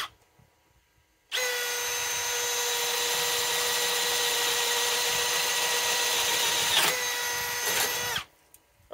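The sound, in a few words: Milwaukee M12 Fuel 3rd gen hammer drill drilling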